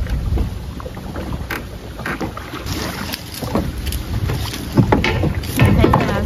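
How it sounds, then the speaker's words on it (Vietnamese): Wind and waves buffet a small boat or skiff out on the water, with steady broadband rushing and wind noise on the microphone, occasional splashes and knocks, and a faint voice or two underneath. "Sóng gió quá là sao nữa."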